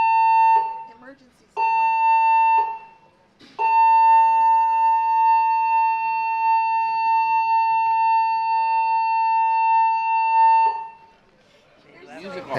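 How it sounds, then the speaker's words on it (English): Cruise ship emergency alarm during a safety drill aboard Quantum of the Seas, a loud steady electronic tone sounding in short blasts then one long sustained blast, with brief background noise between. "that always signifies the second part of the safety process, and that is hearing the alarm"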